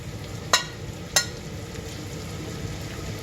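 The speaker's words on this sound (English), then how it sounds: "I'm going to go ahead and add in the beef." Thin beef strips frying in a pan for tacos, a steady low sizzle throughout with two sharp utensil scrapes or taps as the meat is stirred.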